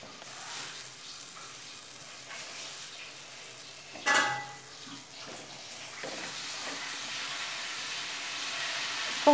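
Folded dough cooks in a hot pan, and a steady, soft sizzle runs throughout with faint shifting and scraping, plus one brief louder rustle partway through.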